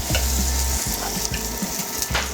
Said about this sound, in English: Now you can really hear that sizzle start to saute